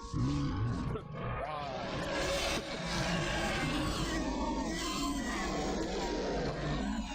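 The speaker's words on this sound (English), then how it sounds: "That's a long roar sound." A long, loud roar sound effect from the Star Trek: Judgment Rites video game rumbles continuously for several seconds, dense and sustained, with a voice talking over it.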